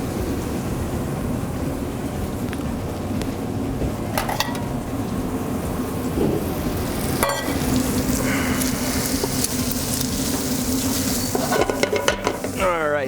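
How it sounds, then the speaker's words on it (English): Bacon frying in a pan as its fat renders and it starts to crisp, giving a steady close sizzle with scattered crackles and a few utensil scrapes and clinks throughout. "All right, so my bacon fat's starting to come out. It's starting to get a little crisp."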